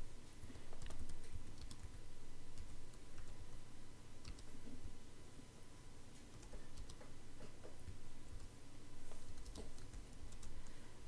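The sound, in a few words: typing on a computer keyboard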